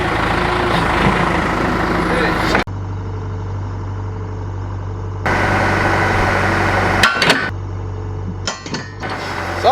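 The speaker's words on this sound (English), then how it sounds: "We've resorted to the backhoe." A backhoe's diesel engine runs loud and close while working on a farm beside a broken D8 bulldozer, its heavy steady drone cutting out and returning with clanks and bursts of revving.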